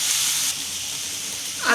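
Chopped tomato sautéing in a pan for paneer bhurji, cooked down after browned onions, gives a steady close hiss of sizzling that briefly grows louder at the end.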